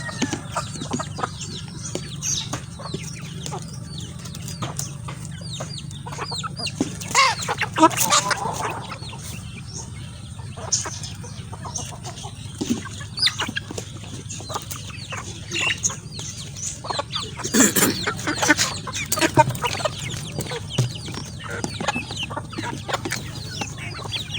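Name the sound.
chickens clucking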